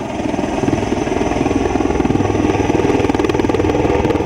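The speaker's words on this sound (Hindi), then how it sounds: "ये जो है लाइट कॉम्बैट हेलीकॉप्टर" Engine of India's indigenous light combat helicopter, a loud, steady, dense mechanical drone with a faint rhythmic beat running throughout, with no speech.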